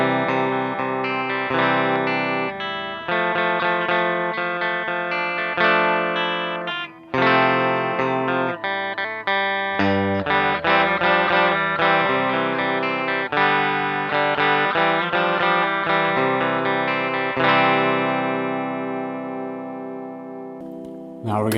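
A 2008 Gibson Explorer electric guitar with its volume rolled back slightly, played through an amplifier: lightly driven riffs and chords with uneven phrasing, ending on a long ringing chord, loud and alone.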